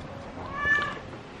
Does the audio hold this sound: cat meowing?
yes